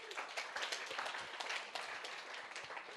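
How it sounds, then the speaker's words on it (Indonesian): A church congregation claps in a scattered burst of applause, fairly faint and spread across the room, lasting a few seconds. "Tepuk tangan untuk Tuhan kita."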